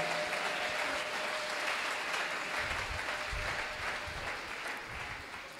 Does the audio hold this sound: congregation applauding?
yes